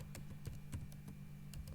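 Quiet computer keyboard typing, a handful of soft key clicks in an uneven rhythm over a low steady hum.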